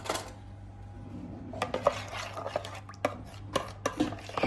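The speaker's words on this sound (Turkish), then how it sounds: "kaşıkla karıştıralım" A metal spoon scrapes and clinks against a baking dish while stirring potatoes and fish, producing a series of irregular sharp taps and scrapes close up, with no talking.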